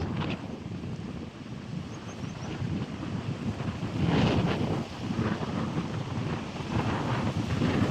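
Strong wind roars steadily over a rough sea with big waves crashing during a storm, a loud continuous rush with surging swells and no talk.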